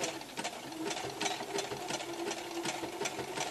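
A sewing machine running a small zigzag stitch, its fast, even mechanical chatter pulsing at a steady rhythm, close and fairly quiet with no talking.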